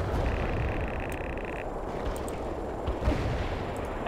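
Gunfire and artillery from the real-time strategy game World in Conflict rumble densely and continuously, with dull booms and crackling shots blending into a steady battlefield roar.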